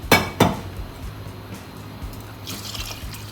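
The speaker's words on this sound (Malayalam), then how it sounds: "ഇനി ഇതിനകത്ത് കുറേ വെള്ളം ഒഴിച്ച് നമുക്കൊന്ന് കലക്കിയെടുക്കേ." Water poured into a pot of cucumber sambar in a home kitchen, two sharp clinks against the pot at the start, then a faint trickling pour, no talking.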